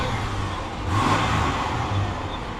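A Ford Explorer engine with an overheating problem idles then revs up briefly around the middle, a close, mid-pitched roar settling back down.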